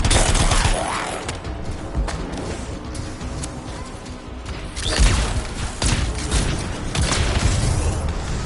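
A contained canister explosion trap goes off in the video game Anthem, with rough blasts, crackling bursts and mechanical clatter building over several seconds, the loudest burst arriving about halfway through amid continuous dense noise.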